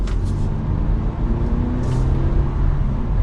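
A 2022 Audi A4 S Line 45 sedan accelerates gently in normal mode, giving a steady, subdued engine and road rumble heard from inside the cabin with no voices over it.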